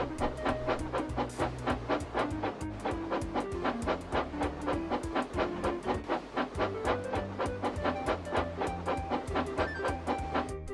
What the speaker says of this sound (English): the two engines puffed together as they pulled the train up a long hill